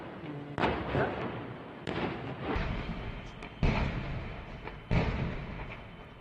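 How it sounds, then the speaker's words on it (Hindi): Several heavy booming blasts of gas cylinders exploding on a burning truck go off at irregular intervals, each followed by a rumbling decay, heard from a moderate distance with faint background voices. "सिलेंडर फट रहे हैं।"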